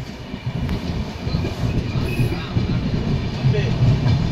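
A passenger train runs into Asansol Junction with a steady rumbling roar and rhythmic wheel clatter on the rails, loud and close, building slightly toward the end.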